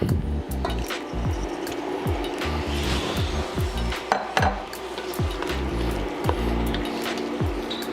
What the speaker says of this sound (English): Now we're gonna add this shrimp